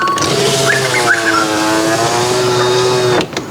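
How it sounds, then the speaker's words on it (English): A Toyota Land Cruiser 80 Series engine running and revving steadily, a rising and falling whine over a rumbling idle, loud and close, cutting off near the end. "Ignition on."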